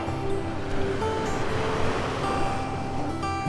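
Steady broadband surf from ocean waves rolling onto a mile-long Florida beach at Delnor-Wiggins Pass State Park, a continuous wash with light wind noise and no voices.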